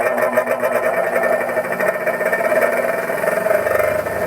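Electric knife sharpener bought secondhand at a flea market, switched on and running with a steady motor buzz and a fast rhythmic whir, loud and close, with no talk.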